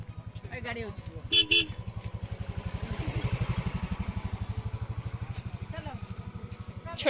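A vehicle engine chugs steadily while passing along a long T-shaped bridge on the way to Singhanath Temple in Odisha, with two short horn toots early on. Voices talk over it throughout.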